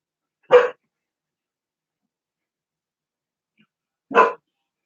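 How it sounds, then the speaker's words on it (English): Two sharp dog barks, each brief and isolated, separated by several seconds of silence; fairly close and clear. "Y'all hear him barking?"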